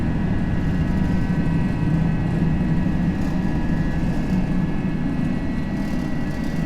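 An Airbus A320 in a flight simulator rolls down the runway and climbs out of Melbourne, a steady, even engine roar with a low rumble that holds constant throughout, with no voices.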